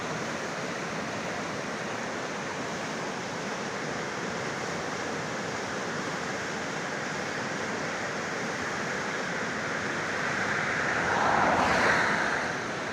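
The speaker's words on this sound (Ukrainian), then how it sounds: "І от такі води йдуть." Fast mountain river in the Carpathians, swollen with snowmelt, rushing over rapids: a steady, loud broadband roar of churning water with no voices, swelling slightly near the end.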